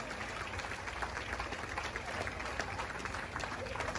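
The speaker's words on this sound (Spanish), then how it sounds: "Les damos un fuerte aplauso a los novios en esta noche" Wedding guests applaud the newlyweds at an evening reception, a dense, steady wash of clapping and crowd noise filling the whole stretch with murmuring voices mixed in.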